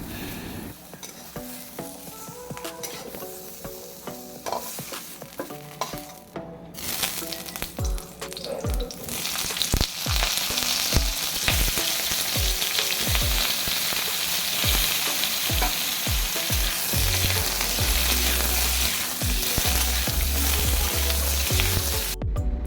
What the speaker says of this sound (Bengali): এরপর আমি কড়াইতে একদম অল্প করে তেল দিয়েছি আলুটা ভাজার জন্য।